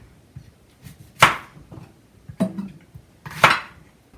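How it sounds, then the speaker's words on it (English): A knife dices eggplant into chunks on a board, three sharp, loud chopping knocks spaced about a second apart over faint, quieter handling sounds, with no voices. "I'm going to dice this into tiny bits"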